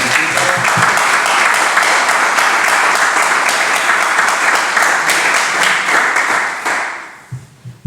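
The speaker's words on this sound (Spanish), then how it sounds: "Vamos a dar un aplauso al Señor por esto." A church congregation at a celebration service claps together in loud, dense, close applause that holds steady for about seven seconds before fading out to a few scattered claps.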